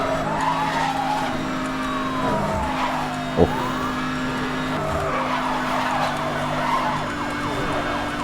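A car at top speed in Need for Speed: Hot Pursuit (2010), with a steady high engine roar and a siren wailing up and down over it, a short sharp knock partway through and tire noise throughout.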